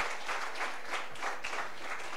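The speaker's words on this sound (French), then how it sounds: "j'aimerais que vraiment nous puissions acclamer le Seigneur pour cela" A church congregation applauds to praise the Lord, a steady wash of many hands clapping together at moderate loudness with no break.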